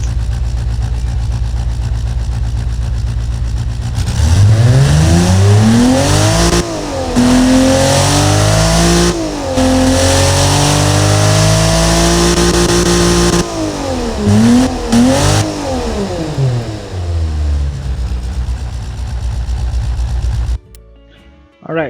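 A Nissan L28 inline-six revs hard in the Automation racing game, climbing toward 7,000 RPM with repeated loud rises and falls of pitch, steady and close, then cutting off abruptly near the end.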